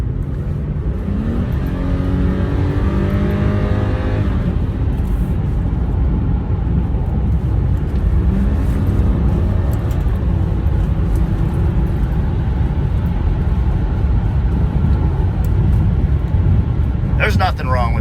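Old car from a junkyard trip driving along, a constant loud engine and road roar with shifting tones as it accelerates, while someone talks over it throughout.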